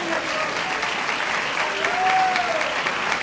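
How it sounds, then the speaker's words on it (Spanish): A church congregation applauds in a dense, steady wash of clapping that stays loud throughout, with a faint voice sounding underneath. "Denle un aplauso a Jesucristo"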